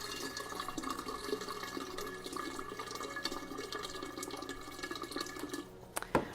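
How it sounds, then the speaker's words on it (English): Water poured into a container while making cucumber agua fresca, a steady close trickle and splash running for several seconds before a brief knock at the end. "I'm going to put some more water in here."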